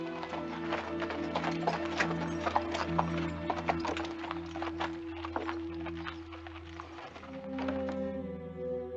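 A horse's hooves clip-clop steadily at a walk as it is led to a stable, moderately close and even-paced, with a low sustained musical drone underneath before the steps fade out.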